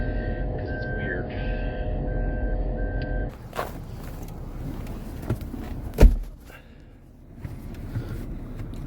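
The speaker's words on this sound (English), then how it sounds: "A minivan that beeps when you back up." A Toyota Estima hybrid minivan's reversing beeper sounds a steady series of electronic tones for a few seconds, then stops; engine rumble and a few thumps follow.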